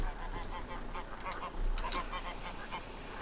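Geese honking on a farm in the video game Farming Simulator 15, a flock of about 70 birds giving repeated short honks and quacks at moderate level over a steady game ambience.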